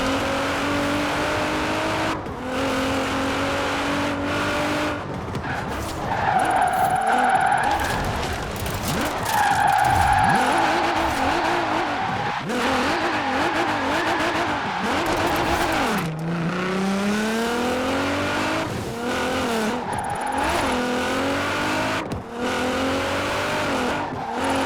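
A drifting car in the Forza Horizon 4 racing game, its engine revving and falling in sweeping pitch glides while tires squeal and skid repeatedly, loud and continuous throughout with no talk.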